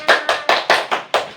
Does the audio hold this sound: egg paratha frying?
no